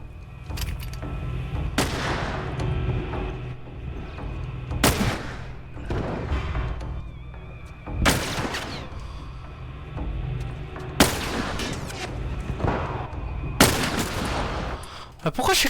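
Rifle gunfire in the video game The Last Of Us: several loud, sharp shots spaced a few seconds apart over a constant rumbling game background.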